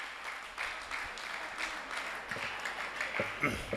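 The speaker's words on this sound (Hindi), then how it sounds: "भरपूर तालियों में ताहिर महमूद ताहिर" Applause from an audience at a mushaira poetry gathering of the Bazm Charagh Adab in Fateh Pur, broad steady clapping over about four seconds with a few louder swells and faint voices underneath.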